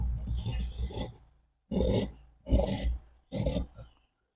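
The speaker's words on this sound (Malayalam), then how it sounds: "നമുക്ക് ഈ ഫ്രണ്ട് വശവും കൂടെ കട്ട് ചെയ്യാം." Scissors cut through blouse fabric in four separate rasping strokes, each a short crisp scrape with brief silent gaps between, close and clear with no voices.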